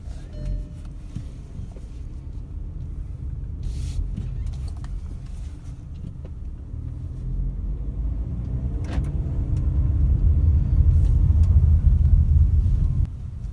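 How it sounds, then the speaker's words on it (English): Steady low engine rumble from a Haval H2 SUV on a test drive, continuous and close, swelling louder toward the end as the vehicle picks up speed, with no talking. "So let's start it up and let's take it for a drive."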